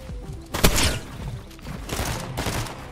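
Gunfire in Fortnite, a sharp loud burst of shots followed by a second rattling volley, close and punchy with faint game ambience between.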